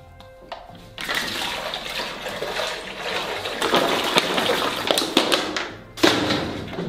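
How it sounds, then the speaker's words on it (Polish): A close splash and steady sloshing, bubbling water, with a sharper plunk near the end, as a phone is dropped into water. "wrzućmy telefon bezpośrednio do wody i odczekajmy chwilkę"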